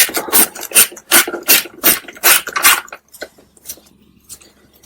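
A screwdriver or wrench works a long 12 mm carburetor tank mounting screw loose on a Suzuki GS500E motorcycle, giving close, loud rasping scrapes in a quick irregular series that trail off into fainter ticks.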